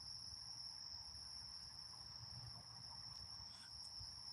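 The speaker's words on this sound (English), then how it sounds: "The frogs are starting to chirp again. The crickets ain't stopped" Crickets chirp in the woods as a steady, high, continuous trill. It is fairly faint, with no voices over it.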